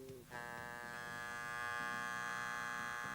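A WAHL electric hair clipper buzzes steadily and loudly up close after its power screw is turned clockwise, a strong sustained tonal hum with a brief dip in intensity near the start.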